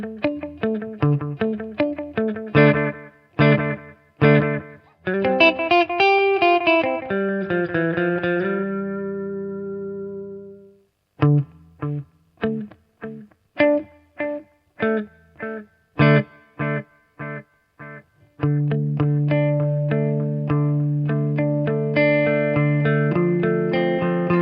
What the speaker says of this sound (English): more modern delay pedals are capable of creating much longer intervals between echo repeats